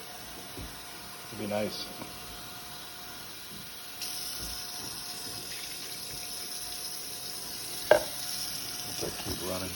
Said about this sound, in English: We're gonna scrape all this yummy stuff up.